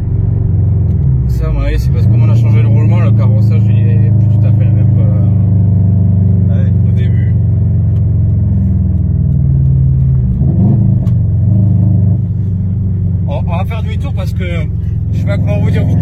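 A Subaru Impreza WRX STI, tuned to around 500 hp, driven on the road, its loud engine droning and rising and falling under acceleration and gear changes, with someone talking over it throughout.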